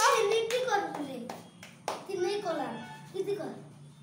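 Children clap their hands in a few quick bursts of sharp close claps, while an adult speaks over them in between.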